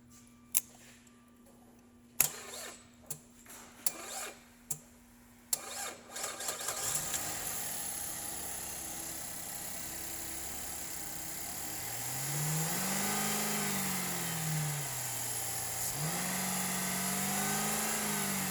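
A 2012 GMC Acadia with about 149,000 miles gives several clicks and clunks before its engine catches and settles into a steady idle. Two rising and falling revs follow, close by.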